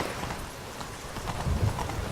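Horse hooves clip-clop at a steady gait while riding in The Witcher 3: Blood and Wine, with a few heavier thuds near the end over a constant game ambience.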